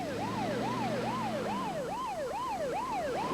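A wailing ambulance siren rising and falling steadily and loudly, with traffic rumble underneath.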